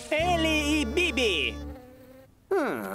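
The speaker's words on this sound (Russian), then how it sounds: "Пчелу я вижу." A cartoon bee buzzes loudly in a wavering, pitch-shifting drone with a few brief wobbles. The buzz stops short, and after a pause a second burst of buzzing returns right at the end.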